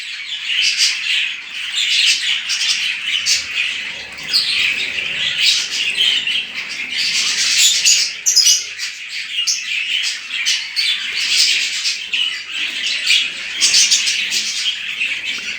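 Dense, continuous chirping and chattering from budgerigars in a home breeding setup, steady and fairly close, with no voices.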